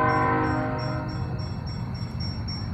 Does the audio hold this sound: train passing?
yes